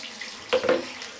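Tap water pours into an empty bathtub in a short burst that swells and then settles into a steady, close running sound.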